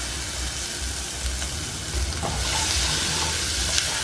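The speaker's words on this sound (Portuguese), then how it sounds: "eu vou deixar essa cebola dar uma refogada" Onion sautés in a pan with already-fried sausage, a dense, continuous close sizzle and crackle that swells slightly halfway through, with faint stirring scrapes.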